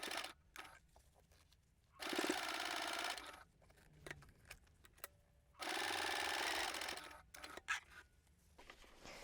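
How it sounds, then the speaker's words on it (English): Sewing machine stitching a quarter-inch seam on a bag: two sustained bursts of fast mechanical whirring, each about two to three seconds, separated by quiet pauses with small clicks and handling noises, close and moderately loud. "now I'm going to stitch that with a 1/4 inch or around about 7mm seam allowance"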